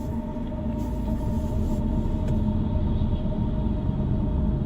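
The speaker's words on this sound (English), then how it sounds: "Oh, there's another car going the other way." A car travels along a woodland road, giving a steady, fairly loud low rumble that holds through the whole stretch, with no voices over it.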